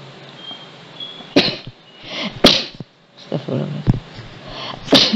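Several sharp, explosive sneezes burst out close to the microphone over a quiet room, with some breathy sniffing between them and no talking.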